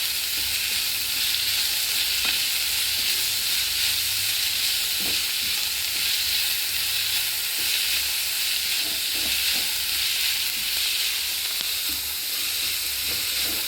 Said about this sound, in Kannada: ಎಲ್ಲ ಫ್ರೈ ಆಗುತ್ತಿದೆ